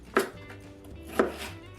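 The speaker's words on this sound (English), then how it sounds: "So I'm going to slice up into large chunks our potatoes" Two sharp knife chops, about a second apart, as potatoes are cut into large chunks on a board, close and clear over a quiet room.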